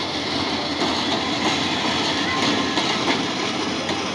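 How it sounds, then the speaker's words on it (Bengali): The Kishoreganj Express, a passenger train coming from Chattogram, roars past up close in a steady, loud rush of rumbling wheels and wind that holds at an even level throughout. "কিশোরগঞ্জ এক্সপ্রেস"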